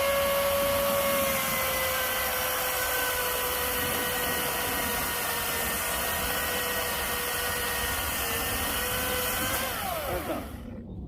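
DeWalt and Milwaukee cordless battery chainsaws cut firewood outdoors on a rural property, a loud steady whining buzz that holds close and continuous, its pitch slowly sagging as the cut progresses before it winds down at the end.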